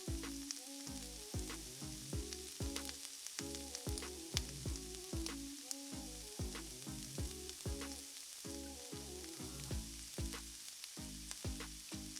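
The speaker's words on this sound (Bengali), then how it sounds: "আমাদের মাছগুলো একদিক ভাজা হয়ে গেছে, আমি অন্য দিকটা উল্টে নিচ্ছি ভাজার জন্য।" Battered tilapia fish fillets fry in a pan over medium gas, giving a steady, crackling sizzle with bursts of spitting oil that continue without pause and without speech.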